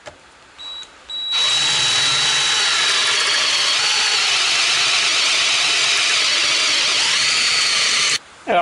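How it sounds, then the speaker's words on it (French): Power drill boring a larger hole into a Citroën Traction 11B rear trunk hinge with a small bit, a steady loud high whine running continuously for about seven seconds after a brief start, then stopping. "là je vais percer un peu plus gros"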